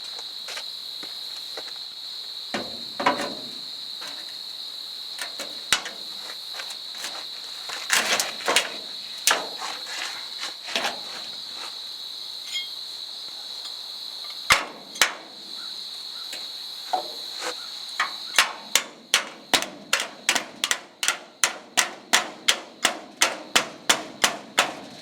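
A wood block struck with a hammer to drive a tie-down bracket into place on a steel building frame: scattered knocks early on, then a fast, even run of sharp metallic blows near and loud, over a steady high insect drone.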